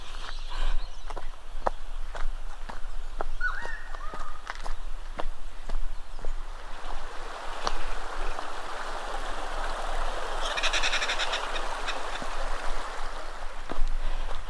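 A van rolls through a shallow river crossing, steady rushing and splashing water with scattered thumps and knocks from the vehicle, swelling into a louder surge of water near the end.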